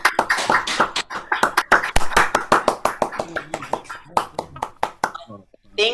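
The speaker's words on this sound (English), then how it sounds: "give a round of applause to all of those wonderful 8 contestants" Scattered clapping from an online audience at a district speech contest, a burst of irregular sharp claps from several unmuted participants, close and uneven, with a voice talking over it.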